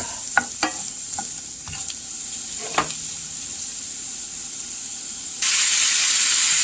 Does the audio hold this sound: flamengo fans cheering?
no